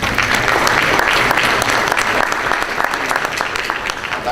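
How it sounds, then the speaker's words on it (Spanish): Loud, steady applause from a sizable audience at an international infrastructure congress, dense and continuous throughout without pause. "Fuerte aplauso para ellos."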